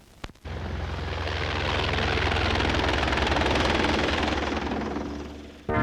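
A helicopter roars close overhead, a loud, steady rotor and engine drone that swells and holds for several seconds before cutting off.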